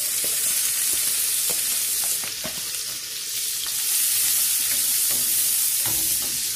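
Onions fry in hot oil in a pan, giving a loud, steady sizzle broken by occasional scrapes and clacks from stirring, with no voices over it.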